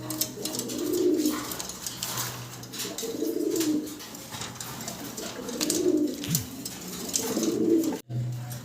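Baghdadi Huma pigeons coo in a repeating series of soft, rolling calls, about four distinct bouts spaced a couple of seconds apart, close by over faint background noise.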